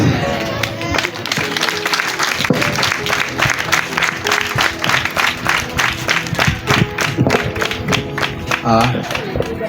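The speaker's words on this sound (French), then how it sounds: "Applaudissons pour le Seigneur" A church congregation claps in a steady, rhythmic beat for the Lord after a sermon, with a strong pulse of hand claps over crowd noise and a background tone.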